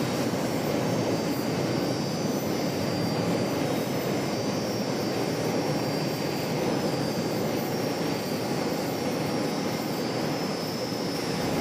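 Airliner taking off at Charlotte airport, a continuous, fairly distant jet engine roar with a broad wash of noise holding steady throughout, no voices present.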